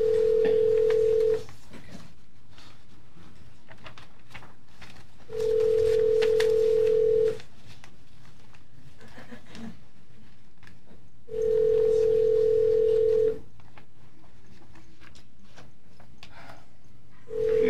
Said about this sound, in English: Someone is trying to dial in.